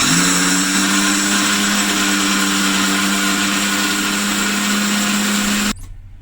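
Mixer grinder whirring at high speed as it grinds soaked moong dal into a paste, a loud steady motor whine held for over five seconds before it cuts off abruptly.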